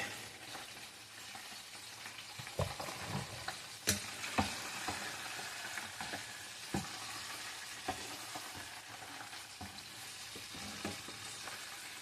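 Chicken frying in oil gives a steady, close sizzle, with scattered louder pops and crackles throughout and no talking.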